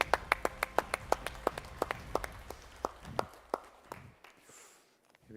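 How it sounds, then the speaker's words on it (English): Sparse, distinct handclaps from a small group at a prize ceremony for innovation in desalination in Jeddah, coming in an uneven rhythm and fading out over a few seconds. "I believe they do deserve one other round of applause."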